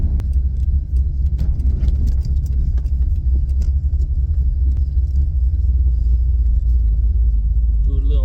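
A sports car engine rumbles steadily and loudly throughout while accelerating, a continuous low drone with no voices.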